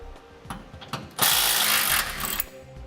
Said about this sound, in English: We need to remove this bolt.